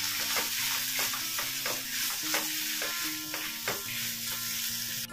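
Onion, tomato, red chili powder and black masala get stirred in a pan, with a sizzle broken by a quick run of rhythmic scraping strokes, close and without speech.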